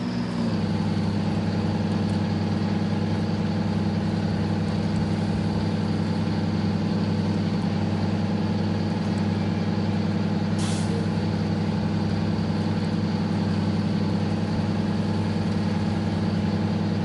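A Detroit diesel truck engine idles steadily in the Snowrunner video game, a continuous low droning rumble that holds close and even throughout, with one brief hissing burst partway through.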